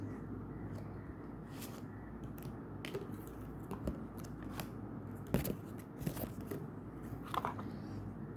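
Package being unboxed indoors: faint scattered snips, crinkles and tearing clicks from cutting and opening the packaging, irregular and quiet, with no talk.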